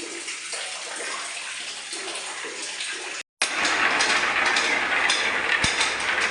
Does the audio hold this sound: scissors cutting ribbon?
no